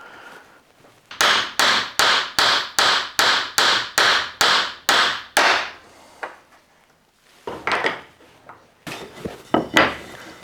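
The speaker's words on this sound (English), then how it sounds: "Now you just want to tap your dowels in." Wooden dowels are tapped into a center finder jig in a quick run of about ten sharp, evenly spaced knocks, then a pause and a few more scattered taps, close and clear.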